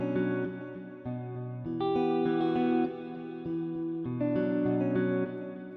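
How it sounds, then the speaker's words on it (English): A guitar preset in FL Studio, drenched in reverb and delay, plays a short melodic phrase of plucked chords with echoing tails that blur each note into the next, clear and alone. "I actually really like the sound we're getting from this one, but it has a bit too much delay."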